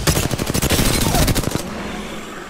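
Video game gunfire rattles in a dense, loud burst of rapid automatic shots for about a second and a half, then stops, leaving a quiet tail.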